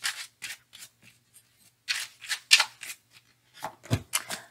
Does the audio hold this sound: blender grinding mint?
no